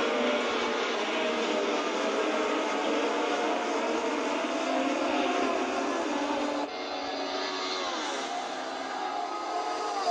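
Simulated 1976 Formula 1 cars, including Niki Lauda's V12 Ferrari, race at Kyalami in Assetto Corsa, giving off a steady, high engine whine that holds throughout with a slight drop partway.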